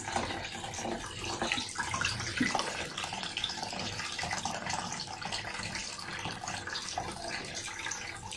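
Bitter water being drained from a container of cracked olives, a steady close splashing pour of liquid running without pause, with no voices over it.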